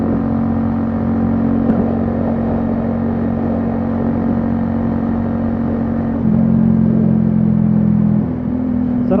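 A motorcycle cruises along an expressway at around 100, its engine giving a continuous loud drone with a faint shift in pitch partway through, and steady wind rush beneath it.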